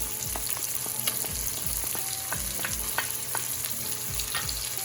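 Chopped onions and garlic sizzle and crackle in hot bacon fat in a pan, with repeated stirring scrapes and clanks of a utensil against the pan, close and steady with no talking.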